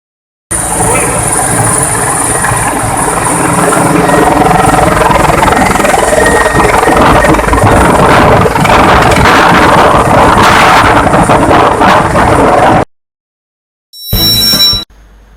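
A helicopter at a helipad in Dholpur runs loud and close, a steady roaring rotor and engine wash with heavy wind buffeting that holds for about twelve seconds, then cuts off before a brief burst of other noise.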